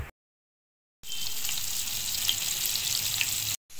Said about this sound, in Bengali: এখন সবাই আগে আমি মাছ ফ্রাই করি